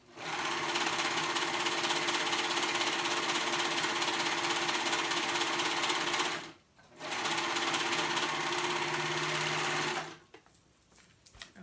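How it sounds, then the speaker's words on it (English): A domestic sewing machine runs a stretch stitch, attaching fabric on a jacket that converts into a backpack. It makes a steady, loud mechanical whir in two long runs with a brief pause between them, then stops. "we're gonna go ahead and sew that on with a stretch stitch"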